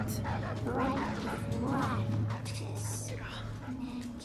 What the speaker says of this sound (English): those stupid fucking dogs